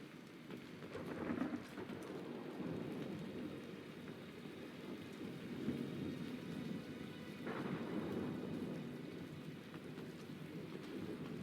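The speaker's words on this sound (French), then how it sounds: "Comme par hasard, il pleut et puis il y a de l'orage." Steady rainfall from Mass Effect 2 (Legendary Edition) patters down continuously, with low rolling rumbles of thunder swelling in and out beneath it.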